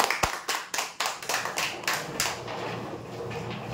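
Audience clapping at a Sunday prize draw, a burst of separate claps that thins out and fades into quieter room noise after about two seconds, with no talking.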